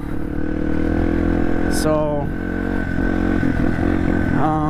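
A Yamaha TTR-230 dirt bike engine runs loud and close while riding, a steady buzzing drone with pitch rising and shifting as it revs, and a voice speaks briefly over it.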